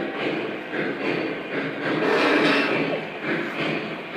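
A long model coal train runs around a large layout past a steel mill, a close, continuous rolling rumble with soft clattering that swells and eases as the cars pass.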